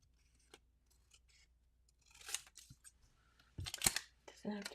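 Scissors snipping through paper or tissue at close range, a few quiet snips early and then louder crisp cuts, with a short voice near the end.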